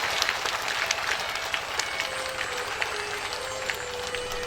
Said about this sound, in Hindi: एक बार जोरदार ताली बजा करके ऐसे भाइयों को आशीर्वाद दीजिए।